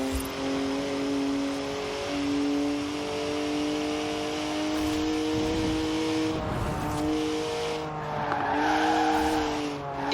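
A BMW 1M, rear-wheel drive, drifting in the Forza Horizon 4 racing game: a steady engine drone with sustained tire squeal throughout, the squeal rising and wavering near the end, no talking.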